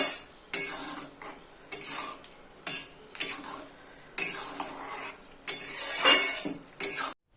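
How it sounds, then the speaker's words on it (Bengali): A spoon stirs a Bengali potol, potato and pea curry with garam masala in a pan, giving repeated sharp metallic scrapes and clinks at an irregular rhythm, close and clear, with a soft sizzle between strokes. "দিয়ে আবারও একটু নাড়িয়ে চাড়িয়ে নিতে হবে"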